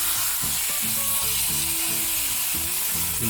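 Pork chops sear in a pan with a steady, close sizzle and spatter that runs the whole time, with some low clunks and shifting tones of the pan and utensil underneath.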